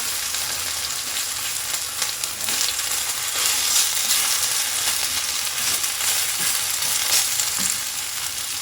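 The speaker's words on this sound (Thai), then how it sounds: "เราจะค่อย ๆกลับด้านเลยค่ะ อาจจะไม่เป็นชิ้นก็ไม่เป็นไรนะคะ ผัดเหมือนหอยทอดนะคะ" Luffa coated in batter fries in hot oil in a pan, giving a steady, dense sizzle that fills the whole stretch, close and loud, with faint scrapes as the pieces are turned.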